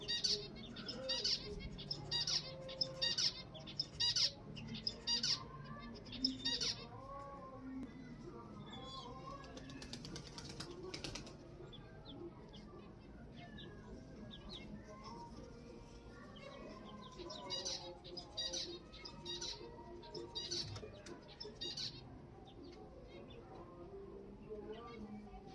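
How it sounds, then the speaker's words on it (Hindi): Pet finches give quick, repeated high chirps in irregular bursts, fairly faint, mixed with wing flutters and other cage birds while a person talks over them. "हमारी फिंचेस आवाज़ करने में बिजी है, tree to tree to tree to ऐसे कर रही हैं"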